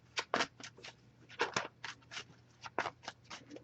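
Tarot cards are shuffled in quick, crisp riffling bursts, several in a row, close and fairly quiet against a faint low hum.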